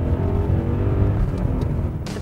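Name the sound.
5-litre V8 car engine roaring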